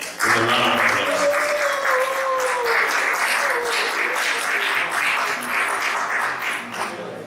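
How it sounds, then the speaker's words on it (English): A congress audience in Belgorod breaks into a loud, sustained round of applause to welcome a speaker, many hands clapping together for several seconds while faint voices murmur underneath. "Let's welcome Ada Elena with a round of applause."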